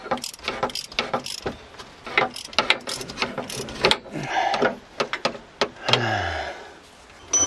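Wrench work loosening a bolt on the rear axle of a BMW E91, with repeated ratcheting clicks and metallic clanks in short irregular bursts, close up, ending in a longer grinding turn.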